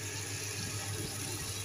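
Water poured into a pan of reddened onions and spices for a fish curry, giving a steady, continuous gushing hiss at moderate level, alone without talk.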